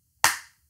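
A single sharp hand clap, close and crisp, ringing out alone against silence and fading quickly.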